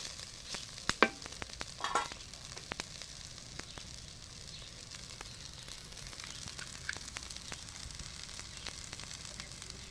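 Tender tamarind leaves frying in oil in a pan, an even, steady sizzle with a few spatula knocks and scrapes near the start.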